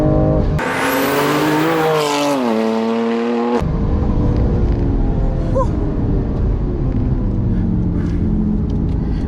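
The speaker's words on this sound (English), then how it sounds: "Love the downshifts. DCT is crisp as anything." Loud in-car engine and exhaust roar of a sports car with a DCT gearbox on a canyon road, revving up through a rising pitch then cutting sharply on a crisp downshift before droning on steadily.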